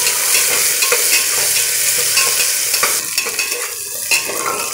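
Finely chopped onion and green chilies sauté in a pressure cooker, making a loud, close, continuous sizzle with scraping stirs of a spoon against the metal.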